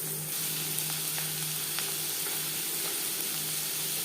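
Chopped onion fries in mustard oil for a mutton liver curry, giving a steady close sizzle with occasional light clicks of stirring and no voices.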